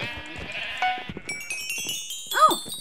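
Sheep bleating in the Minecraft Bedrock video game, a few short wavering bleats near the end over busy game noise, chimes and clicks, no one talking.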